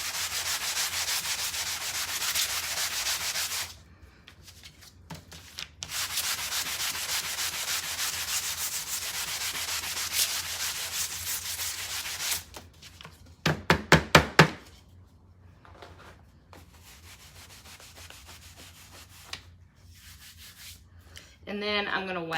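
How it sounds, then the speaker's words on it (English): A wooden signpost, still slightly wet, sanded by hand in long sustained rubbing strokes with pauses between passes, then a short burst of quick rapid scrubs and a few light knocks near the end. "the first thing I'm going to do is sand it down just a little bit"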